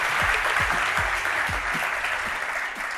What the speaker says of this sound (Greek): Χειροκρότημα, ρε, παιδιά